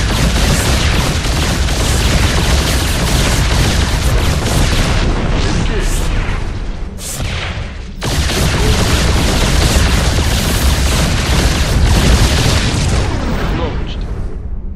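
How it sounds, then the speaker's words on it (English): Heavy Yamato cannon blasts in StarCraft II hit a target as booming, rumbling explosions that fill the whole stretch, with a short lull in the middle before the roar resumes. "Hit him with the Yamato cannon."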